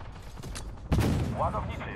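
Tank cannon fire in the tank battle video game Armored Warfare, a single heavy shot that bursts in midway and rumbles away over a mechanical background hum.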